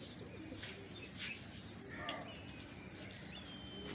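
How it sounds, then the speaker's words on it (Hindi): A few bursts of wings flapping rise over a quiet, hissy outdoor background, with faint bird sounds nearby. "अभी कबूतर खोलेंगे अपना"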